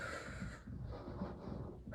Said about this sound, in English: I'm exaggerating the breathing so you don't hold your breath